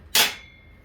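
A latch on an Evolution table saw snaps shut in one sharp, close click that rings briefly and fades, with nothing else around it.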